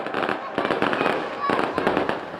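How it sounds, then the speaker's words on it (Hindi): Fireworks bursting at a Dussehra fair in Pali during the Ravan effigy burning, a dense run of loud crackling pops and bangs with no pause. "अब आतिशबाजी का नजारा आपके सामने है।"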